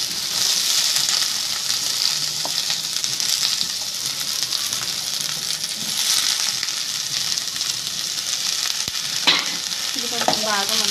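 Washed cabbage cooking in oil in a pan, sizzling and frying steadily while being stirred, with a few scraping utensil knocks and light clinks near the end.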